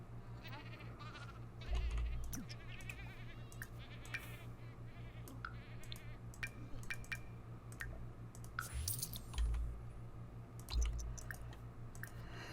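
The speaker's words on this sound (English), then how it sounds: "Can you just milk goat, please?" Goat on a ranch bleats a few times during milking, the calls scattered over a steady low hum with soft chewing, squishing and clicking noises close by.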